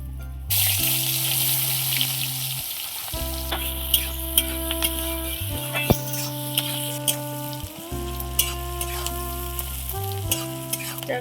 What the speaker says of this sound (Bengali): তেলটা গরম হয়ে গিয়েছে এবার পেঁয়াজটা দিয়ে দেবো